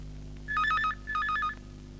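A telephone rings at a district police office with two short electronic trilling bursts, clear and close, over a low steady hum.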